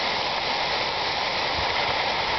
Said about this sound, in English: Our, what do you call it? Water fountain in Lyndhurst.